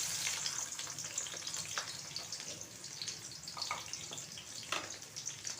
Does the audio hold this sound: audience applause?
no